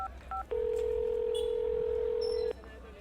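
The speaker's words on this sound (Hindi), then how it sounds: "अथर ने फिर फोन मिलाया।" A phone number is keyed on a telephone: two short touch-tone beeps, then one long steady tone lasting about two seconds, clear and close over low background hum.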